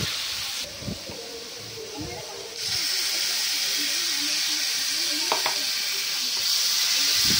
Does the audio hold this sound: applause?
no